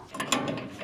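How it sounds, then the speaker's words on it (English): A ratcheting wrench working bolts on a truck bumper of a 1967 GMC, a few close, quick metallic clicks in under a second. "use a ratcheting wrench to break your"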